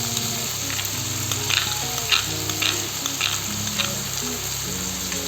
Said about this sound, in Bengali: মশলা দিয়ে কিছু সময় নাড়াচাড়া করে খুব ভালো করে কষিয়ে নেব।